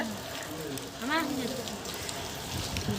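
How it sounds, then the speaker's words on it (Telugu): Heavy rain falls around a hilltop temple area at ISKCON Bangalore as a constant close hiss, with people talking over it. "రైనింగ్, చాలా వర్షం పడుతుంది"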